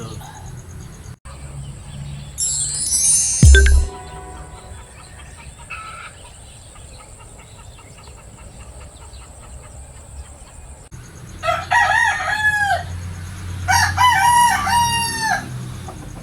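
A rooster crows loudly and close by several times in a row, with brief clucks and a sharp knock or two earlier, set against low farmyard rumble.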